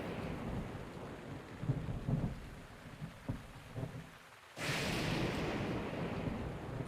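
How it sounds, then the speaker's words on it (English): Stormy weather in The Legend of Zelda: Breath of the Wild: quieter rain with low thunder rumbles, then an abrupt loud surge of heavy rain and thunder that holds steady to the end, no talking. "Can the rain stop now, please?"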